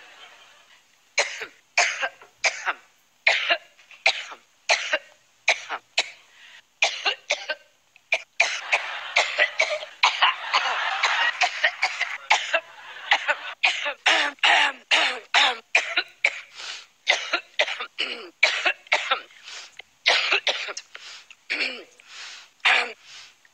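Someone in a prolonged coughing fit, dozens of sharp, dry coughs and throat clearings in quick rhythmic bursts that blur into a dense cluster midway, close and loud with no talking.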